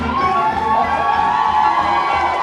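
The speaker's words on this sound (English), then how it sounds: "The crowd has erupted, Wally" An arena crowd roars at a wrestler's entrance, a loud, sustained wall of cheering and shouting that holds steady throughout without a break.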